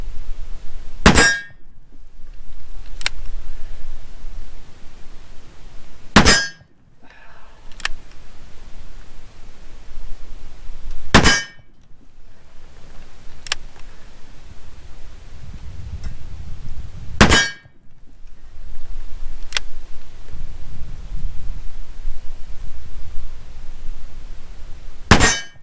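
Heavy gunshots ring out during a recoil test of a Feyachi RDS-22 micro red dot. Several loud, sharp cracks come every five or six seconds, with fainter clicks and outdoor hiss between them and no talking.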